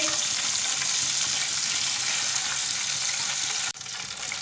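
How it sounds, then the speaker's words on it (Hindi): Chicken pieces frying in hot oil in a pan for biryani, a loud, close, continuous sizzle with crackling hiss that drops suddenly near the end as the pan is disturbed, no voices. "चिकन हमारा अच्छी तरह फ्राई हो चुका है।"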